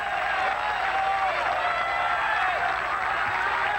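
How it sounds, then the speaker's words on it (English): Golf gallery applause at the 1998 Million Dollar Challenge in Sun City during a playoff, a steady crowd clapping at a constant level, mixed with murmuring voices. "The applause seems to get louder as we go on."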